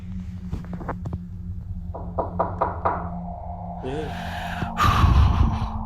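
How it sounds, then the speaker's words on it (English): Sharp knocks inside a house: scattered single raps, then a quick run of four or five evenly spaced knocks, followed by a louder thud and a gasping breath near the end. "I hear knocking again."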